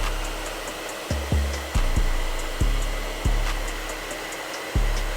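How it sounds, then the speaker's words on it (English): Hair dryer running steadily to heat Glock handgun grip panels, a close continuous whirring hum broken by repeated sharp low thumps and shifts as it is moved or the grip is handled. "Get your hair dryer."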